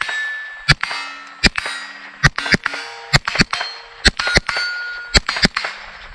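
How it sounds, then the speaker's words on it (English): A Ruger 10/22 rifle fires quick double taps at steel targets, each sharp crack followed by a ringing metallic clang, about a dozen shots in pairs and singles, close and loud. "I'm going to do double taps left to right on all the bait targets with this"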